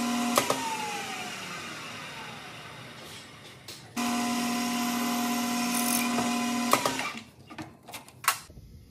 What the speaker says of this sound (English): the hole that I just drilled in the center of the arm